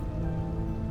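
Steady rain pattering in Vintage Story, falling on a small farm plot at dusk; a dense, even patter of drops without pause, close and moderately loud, with no voices.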